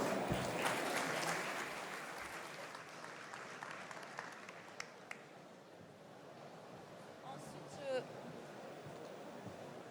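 A conference audience applauds for an incoming speaker, moderate clapping that is strongest at the start and fades into a lighter, scattered patter with faint rustling and a brief murmur of voices.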